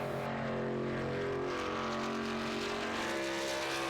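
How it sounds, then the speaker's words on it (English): Racing trucks running at the Michigan track during qualifying, a steady distant engine drone with a sustained tonal whine and no voices. "The sounds of those trucks as they get ready to wrap them up in qualifying"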